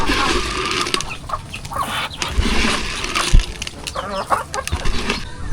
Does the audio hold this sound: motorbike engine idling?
no